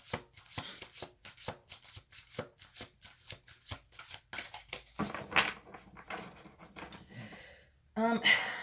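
Tarot cards are riffled and shuffled in quick rhythmic bursts, crisp and close, with a soft voice and light breathing briefly joining near the end.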